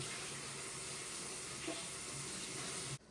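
Water runs steadily from a kitchen tap as a utensil used for mixing chicken salad is rinsed under it, a constant hiss that cuts off abruptly near the end.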